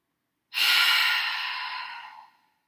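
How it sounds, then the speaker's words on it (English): A single long exhale through the mouth during a gentle yoga flow, a close, breathy rush of air that starts abruptly, holds steady, then fades over nearly two seconds, alone in otherwise silent surroundings. "we're going to exhale through the mouth, releasing that air"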